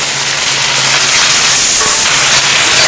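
Eggplant pieces tipped into onions already frying in oil set off a loud, close, continuous sizzling hiss that holds steady for the whole stretch, with no talking.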